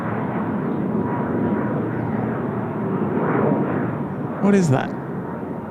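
An Airbus A330 at Incheon Airport gives a broad, loud jet roar that swells and fades slightly across the whole stretch, heard from the ground while a voice speaks briefly over it.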